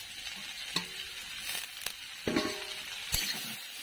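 Chopped ingredients are stirred in a pan, making soft frying sizzle and a few distinct scraping knocks of a spoon against the pan, quiet and close.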